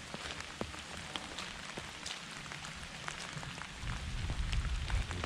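Rain falls steadily on a muddy hiking trail in Nebraska, a soft continuous patter with scattered individual drops tapping close by, growing slightly heavier toward the end.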